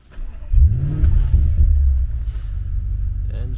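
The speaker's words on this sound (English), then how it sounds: "Engine starts, no problem." Audi S5 engine fires up via keyless push-button start: a quick crank, then a loud rising rev that settles into a steady low idle rumble, close by.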